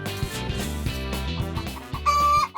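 Chickens cluck in a rapid, busy stream of short calls, close and loud, with a higher sustained squawk near the end and no talking.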